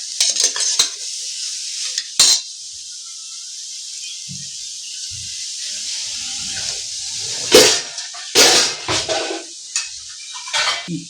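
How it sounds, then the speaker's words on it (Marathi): Vegetables for Kolhapuri-style pav bhaji (peas, carrots, potatoes, cabbage and beetroot) are stirred in a pressure cooker with a utensil. Clinks and scrapes come close and fairly loud, with a steady steamy hiss underneath and a few sharper bursts. "यांना आपण थोडंसं मिक्स करून आता याच्यात आपण पाणी टाकूया।"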